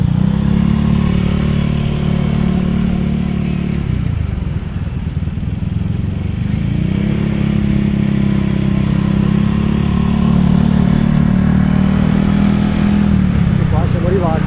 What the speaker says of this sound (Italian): Sta rientrando un motoscafo e ora incasina tutto.